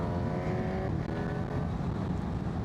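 A Honda CB1000GT motorcycle rolls on in third gear down a hill on a dual carriageway; the engine note climbs briefly and then holds a steady, loud drone mixed with rushing wind noise.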